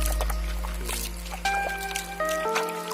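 Water poured and trickling over a 200cc engine during a restoration, a steady close splashing stream with tonal ringing and a low hum, fading out near the end.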